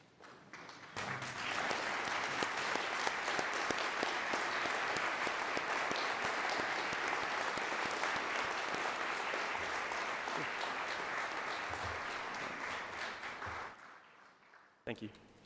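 Graduation ceremony audience rising to give a long round of applause, many hands clapping steadily for well over ten seconds before fading out, with a few voices beneath.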